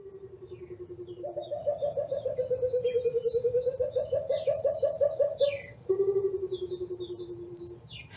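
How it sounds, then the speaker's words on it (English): A Burchell's coucal, a cuckoo species, gives its bubbling call: a long run of rapid, liquid low notes that rise and dip, pause briefly, then resume and trail off, fairly close and alone. "It's a species of cuckoo. Listen to its bubbling call."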